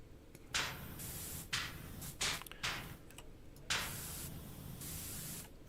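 A pressure washer nozzle in Power Wash Simulator sprays in repeated bursts, each a loud hissing blast starting and stopping with short gaps, ending in a longer sustained spray.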